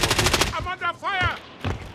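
A short burst of rapid automatic gunfire in the Warzone game opens the moment, then a voice speaks over it before another quick burst of shots near the end.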